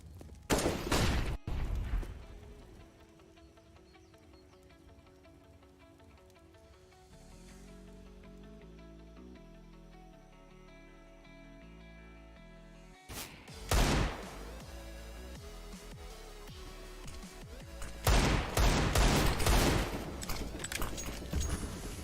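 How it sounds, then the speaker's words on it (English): Hand cannon shots ring out in a video game esports match, with several loud bursts of rapid gunfire at the start, a quieter stretch of game sounds, then more heavy volleys near the end. "Enterprise just with the hand cannons, doing some decent work onto Draken"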